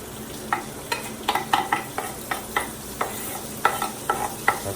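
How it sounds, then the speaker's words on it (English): Onions sauté in a pan, a low sizzle carrying regular scraping strokes of a utensil stirring them, about a dozen evenly spaced scrapes, close up and without speech. "We're gonna try to saute these onions a little bit."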